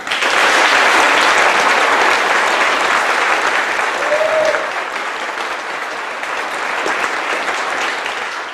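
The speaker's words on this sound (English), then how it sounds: "How about a round of applause?" Sustained applause from a large graduation audience honoring the class of 2016, dense and steady clapping that holds loud for several seconds before easing slightly toward the end.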